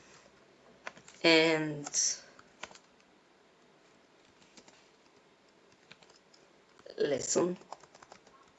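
Typing HTML code on a computer keyboard, soft steady key clicks running throughout under a man's short spoken phrases, close and fairly quiet.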